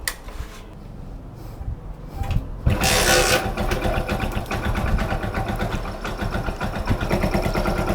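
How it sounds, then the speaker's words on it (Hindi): A motorbike whose battery is not charging is being diagnosed. After a short, quiet stretch with light clicks, its engine cranks and catches, then settles into a loud, steady, close idle. "और बाइक को जो मैं स्टार्ट कर लेता हूँ।"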